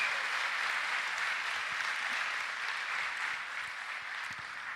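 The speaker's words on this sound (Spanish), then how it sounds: "¿Por qué no le damos un aplauso fuerte a ese Señor?" A church congregation gives sustained, even applause, a dense crowd of clapping heard at moderate distance with no talk above it.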